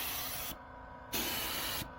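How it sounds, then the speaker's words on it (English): A paint spray gun hisses in two loud bursts against van bodywork, run above the paint's recommended pressure, with a quieter hiss between the bursts; no talk. "I'm actually spraying now above the pressure recommendation for this paint"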